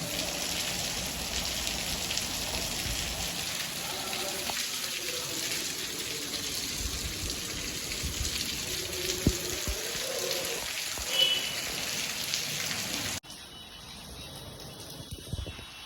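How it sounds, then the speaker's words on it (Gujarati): Steady, dense rain pouring down at night in Junagadh with a constant hiss and patter throughout, shifting to a quieter, thinner wash near the end. "ફૂલ વરસાદ ભાઈ જુનાગઢમાં"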